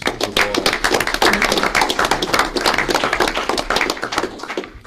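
Applause at a school board meeting for an award-winning staff member: a steady crowd of hands clapping in a meeting room, dense and sustained for several seconds before thinning out, with a name briefly called over it.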